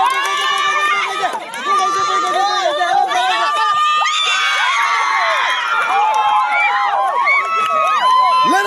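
At a college sports week kabaddi match, a large crowd of children screams and cheers continuously for their house team, loud and close, with shrill rising shouts layered over a dense roar.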